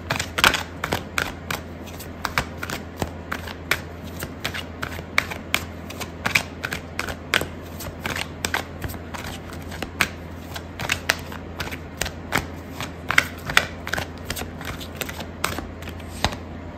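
Tarot cards being shuffled and handled for a Sagittarius love reading, a dense run of quick papery riffling clicks and flutters that keeps going steadily throughout, close and fairly quiet, with no talking.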